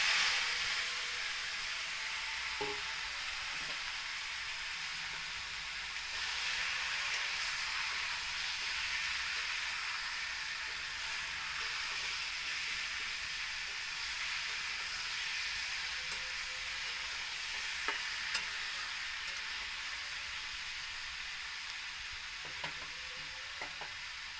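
Marinated chicken hits a hot pan already seasoned with whole cumin, breaking into a steady, loud sizzle and frying hiss that runs throughout, with occasional faint clicks of stirring.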